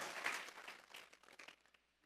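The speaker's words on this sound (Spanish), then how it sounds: "Vamos a regalarle ofrenda de palmas al Dios de la gloria." A church congregation claps together during a worship service, a dense burst of many hands that gradually tapers off and fades within a couple of seconds.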